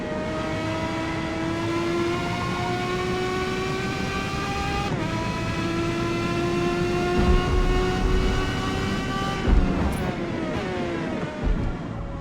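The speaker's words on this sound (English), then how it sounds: "It's the engine sound. Have a listen." A car engine in the Gran Turismo racing game drones at a steady pitch, then shifts sharply twice as gears change. The tone builds in intensity toward the end, loud and alone with no talk.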